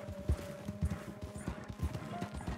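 Horse hooves clip-clop in a steady trotting rhythm in Red Dead Online, several distinct thuds close by over a low steady hum, with a faint whinny hinted.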